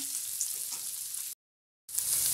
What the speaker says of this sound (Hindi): हमें प्याज को अच्छे से भून लेना है